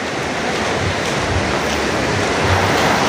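Ocean surf at Pandawa Beach in Bali rolls in with a continuous broad wash, swelling in low surges and growing slightly louder toward the end, with some wind buffeting.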